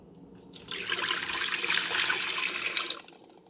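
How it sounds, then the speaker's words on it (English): Two cups of water pour into an Instant Pot Viva holding eggs, a close, steady splashing stream lasting about two and a half seconds before stopping. "I'm going to put 2 cups of water in."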